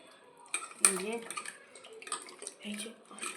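Maida flour dough is washed in a bowl of water and the milky water is poured off, with clattering bowl knocks, sloshing and splashes coming in uneven bursts, and a brief voice murmuring faintly underneath.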